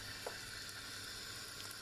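Chili flakes fry in hot oil in an otherwise empty pan, giving a faint, steady sizzling hiss with no talking.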